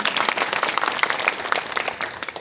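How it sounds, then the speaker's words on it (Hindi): An audience at an ashram event claps to thank the event's supporters, producing moderately loud, uneven applause made of many distinct hand claps. "आप लोग हृदय से ताली बजाकर धन्यवाद ज्ञापित करेंगे"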